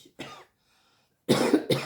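A short cough, a pause, then two louder, harsh coughs in quick succession, close to the listener, set off by glue fumes during card making.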